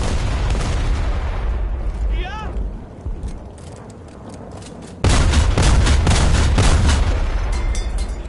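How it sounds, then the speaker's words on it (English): Heavy anti-aircraft cannon fire in War Thunder, loud booming volleys over a constant rumbling engine bed, pausing briefly midway then resuming with a denser, harder stretch of shots. "Apparently this is a very fun anti-aircraft gun for people to play."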